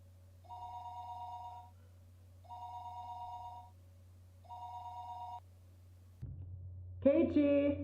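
A telephone sound effect in a story reading rings in three even, moderately loud bursts with pauses between them, and then a voice begins speaking.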